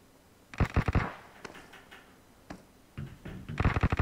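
Bursts of rapid automatic gunfire from PUBG Mobile on the Erangel map crack in short clustered volleys, with scattered single shots between them, loud and close, with no talk.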